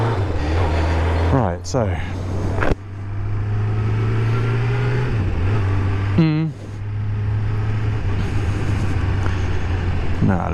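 Kawasaki GPZ600R motorcycle on a test ride after a rebuild, its engine a steady close drone with a couple of brief rev changes, while a rider talks over it briefly.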